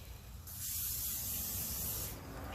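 Cooking spray hisses onto the bottom of a large pan in one steady burst of about a second and a half, close and soft, with quiet background noise before and after.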